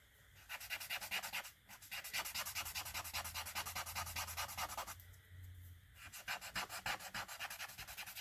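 A brush scrubs oil paint back on canvas in close, dry rasping strokes, steady and rhythmic, with a short pause partway and another near the end before the scrubbing resumes.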